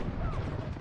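Dense gunfire in the video game Battlefield 6, a rough burst of rapid shots and crashing impacts that fills the whole moment at loud, steady level.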